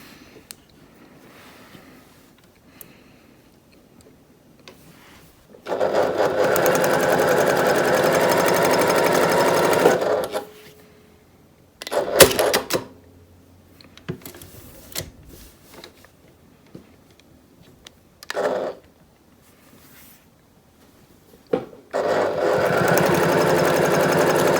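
A sewing machine stitching along overlapping quilt selvages runs in a long steady burst, then in short stop-and-start bursts with quiet pauses, ending in another sustained run, close and loud with no talking.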